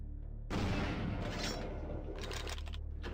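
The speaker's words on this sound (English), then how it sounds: "What is exploding right now?" Explosions in the video game Vampire the Masquerade - Bloodlines, a sudden loud booming burst followed by a sustained rumbling roar with sharper crackling hits near the end, all distant-sounding and somewhat muffled.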